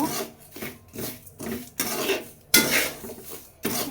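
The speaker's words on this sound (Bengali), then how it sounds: "আমি তেজপাতা দিয়ে শুকনো একটু নাড়া দিয়ে নিছি" Dry semolina with a bay leaf is stirred in a pan, a rhythmic series of raspy scraping strokes against the metal, about six sweeps at close range with no talking.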